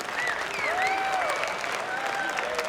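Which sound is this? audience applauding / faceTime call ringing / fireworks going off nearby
audience applauding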